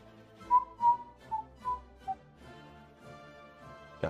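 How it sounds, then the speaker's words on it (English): A person whistles a short tune close into a microphone, five clear separate notes dropping in pitch, followed by a quiet pause and a brief rustle at the end. "God, whistling probably sounds really bad over the microphone."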